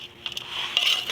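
Jackfruit pickle is mixed with vinegar and oil in a metal vessel, giving quick clinks and scrapes of a spoon against the container, close up, with a brief wet shuffling.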